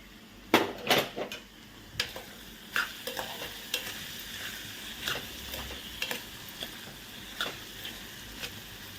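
Papaya curry with turmeric, salt, ginger and garlic sizzles softly in a pan while a spoon stirs and scrapes, sharp metallic clinks and taps recurring irregularly over a low frying hiss.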